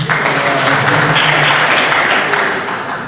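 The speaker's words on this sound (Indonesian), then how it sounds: "Tepuk tangan buat Mas" Loud, dense applause from students at a law program orientation, steady clapping filling about three seconds before easing slightly at the end.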